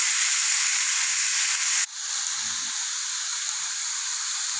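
Onions sautéing in hot oil for a street-style tea-shop onion samosa filling, a steady loud sizzle with a short dip partway through before the frying hiss picks back up, with no voices.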